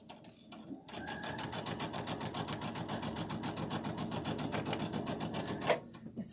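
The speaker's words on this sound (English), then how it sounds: "Okay, drop my foot, line it up, get going. Sewing with my shoe on." A foot-pedal sewing machine stitches a quilted door banner in one steady run of fast, even mechanical clatter, close and continuous for several seconds before stopping.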